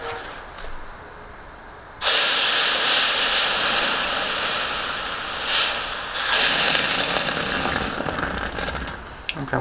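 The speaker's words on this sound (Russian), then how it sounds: "Сейчас они немножко схватятся, и мы их в воде остудим." A loud, sustained hiss bursts in and rolls on for several seconds, easing briefly before surging again, as hot cast lead fishing weights are cooled in water.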